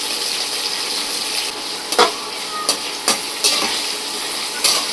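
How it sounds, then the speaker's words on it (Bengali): Steady sizzling of vegetables frying in plenty of hot oil, with a few sharp clicks and scrapes of a utensil stirring the pan. "ছেড়ে দিচ্ছি একবারে ভাজা ভাজা অনেকটা তেল আছে"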